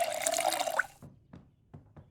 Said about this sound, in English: Let me fill my water bottles.